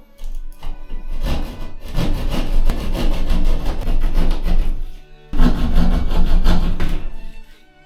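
A hand saw cuts through a plasterboard wall in a bathroom build, loud rhythmic rasping strokes close by, building in intensity, pausing briefly, then resuming.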